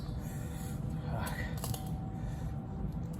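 A pizza cutter rolls through a super crispy pan pizza crust, giving a few brief crackling crunches over a steady low background hum.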